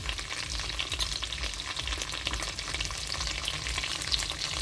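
Dried fish (buwad) frying in a pan, a steady dense sizzle and crackle of hot oil with light stirring, close and loud throughout, no voices.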